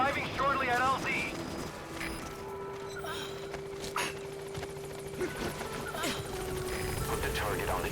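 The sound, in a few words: helicopter arriving at landing zone in video game Metal Gear Solid V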